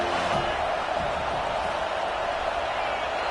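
A stadium crowd at a USC versus Alabama college football game gives off a steady, loud roar that fills the whole stretch without letting up, with no distinct voice rising above it.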